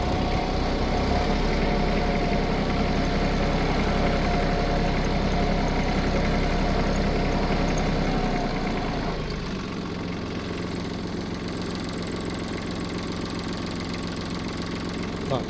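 A tractor engine runs steadily while driving along a ploughed furrow, a loud, constant rumble close by that eases slightly partway through and then carries on.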